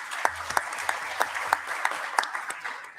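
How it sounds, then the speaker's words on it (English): An audience at an AI, security and ethics conference applauds the panel speakers, steady clapping with sharp individual claps standing out over about three seconds. "please join me in giving a round of applause to our speakers"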